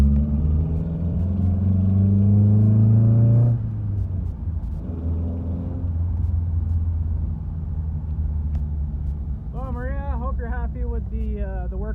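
A BRE Datsun 510 engine rumbles loud and close, idling with a steady drone, then drops and settles into a lower running rumble as the car moves off, with wind buffeting and a voice talking near the end.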